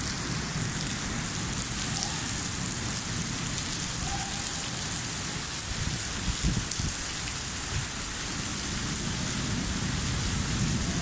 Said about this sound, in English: It would rain, but not this type of thunder.